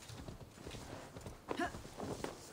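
A horse's hooves clip-clop in Assassin's Creed Valhalla, a soft, uneven run of footfalls that gets a little louder in the second half, over a quiet background.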